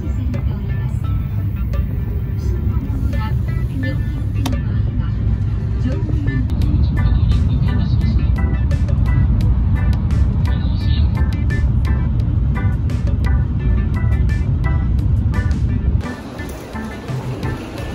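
Steady low rumble inside car 1 of a Nozomi Shinkansen, running as a loud continuous drone with faint clicks and rattles over it, dropping in level near the end, with some talk mixed in.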